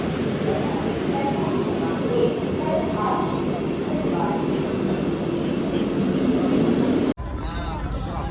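An express train rumbles loudly and steadily into a station platform at close range with a dense, roaring noise, people talking faintly underneath, before the sound cuts off abruptly near the end.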